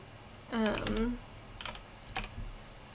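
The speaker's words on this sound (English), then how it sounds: "as I'm typing it out from the script into the actual word balloon" Lettering comic word balloons from a script, someone types on a computer keyboard with a few soft key taps, faint and close, after a brief spoken remark.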